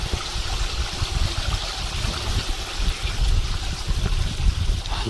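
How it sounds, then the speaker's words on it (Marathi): A small waterfall at a historic site in the Sahyadri hills, a thin, steady trickle and splash of flowing water heard close by without any talking. "बघा थोडं थोडं पाणी चालू"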